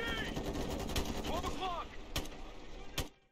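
Gunfire in the tactical shooter game Ghost Recon Future Soldier, with sharp shots cracking at about 1, 2.2 and 3 seconds over a dense, busy battle mix, ending abruptly.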